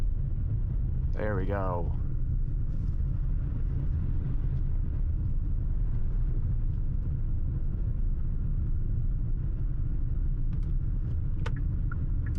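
Hyundai Palisade SUV on a winter drive, with a steady low engine and road rumble throughout and a brief voice near the start. No upshift change stands out clearly over the drone.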